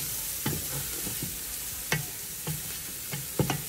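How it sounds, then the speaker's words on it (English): Garlic browns in a soup pot over medium-high heat, giving a steady close sizzle broken by a few sharp clinks and scrapes of stirring. "it's gonna actually start to brown the garlic."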